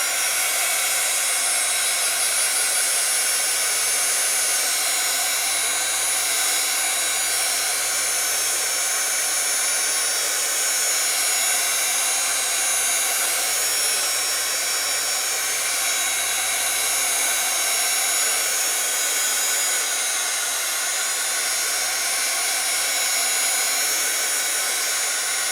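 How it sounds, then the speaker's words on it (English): A hair dryer blows steadily and loudly for the whole stretch, a constant airy whoosh with a high whine and no pauses. "Let's see how this will dry with the dryer."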